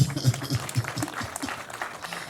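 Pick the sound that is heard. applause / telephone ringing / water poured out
applause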